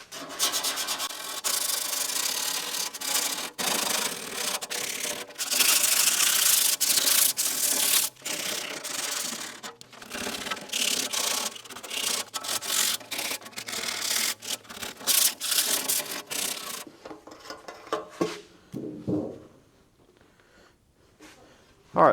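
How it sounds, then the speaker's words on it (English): Steady abrasive rubbing of sanding on a sandblasted metal patch panel for a Model A Ford hot rod door, loud and continuous with brief pauses, fading toward the end. "So I'm going to sand it, clean it, and then paint it"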